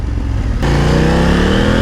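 A tall motorcycle with strong torque and no quick shifter revs up hard from idle, its engine note climbing steadily and loud in close range, with no one talking.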